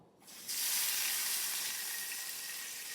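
A sudden loud fizzing sizzle bursts out after a brief quiet moment, then hisses on steadily like hot bacon grease spitting as water hits it.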